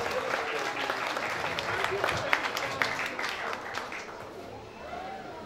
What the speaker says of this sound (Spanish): Y fuertes aplausos.